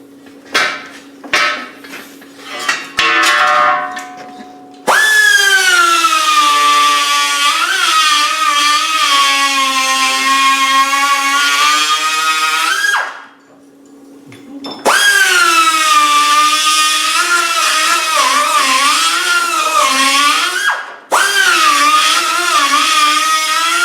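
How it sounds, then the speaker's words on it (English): A die grinder fitted with a new burr works on Land Rover Defender bodywork during footwell, door pillar and bulkhead repair, screaming loudly and steadily in long sustained bursts with pitch wavering under load, after a few sharp knocks at the start. "The die grinder, with a nice new burr on it, is an excellent tool for getting into nasty little places"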